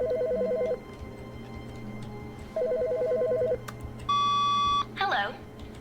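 A phone rings in The Stanley Parable, with repeated electronic trill bursts, the last one higher and steady, under a low constant room hum and a brief voice near the end.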